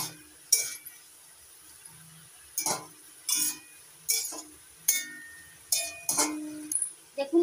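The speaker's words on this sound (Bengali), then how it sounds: "নাড়াচাড়া করে দিচ্ছি।" A utensil scrapes and clinks against a pan while taro greens and a hilsa fish head are stirred, sharp metallic strikes about once a second over a quiet background.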